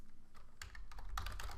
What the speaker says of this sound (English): Let me just try typing